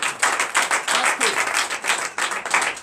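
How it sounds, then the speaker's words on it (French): A church congregation claps in acclamation at a night deliverance and prophecy service. The applause is close, loud and fairly continuous, with dense, uneven bursts, and a voice speaks faintly underneath. "Donne l'acclamation à Jésus"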